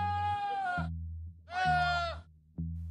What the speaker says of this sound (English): Or it might have been a goat.